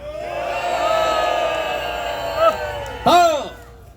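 A large crowd at a Korean political rally cheers and shouts together, a sustained roar of many voices with a couple of louder whoops rising near the end.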